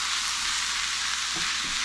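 Cabbage and Swiss chard cook in a pan with a steady, even sizzle of frying vegetables, a little faint stirring coming through near the end, no voices.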